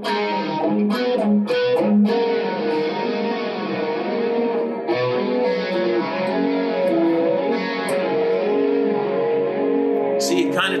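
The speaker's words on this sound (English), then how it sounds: "Let's turn on our micro chorus from MXR." An electric guitar with a moderate distortion setting plays through an MXR Micro Chorus pedal, sustained chords shimmering with a slow wavering modulation, continuous and fairly loud with no talking.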